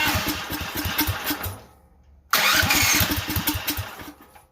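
A Duromax 440cc engine on choke catches and revs with a rough, pulsing roar, dies away briefly, then fires again loud and close before fading.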